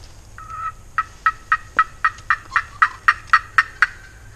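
A wild turkey hen calls in a run of about a dozen sharp, evenly spaced yelps, fairly close, over a quiet outdoor background.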